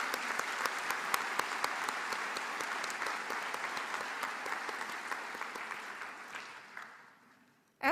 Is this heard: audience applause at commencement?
yes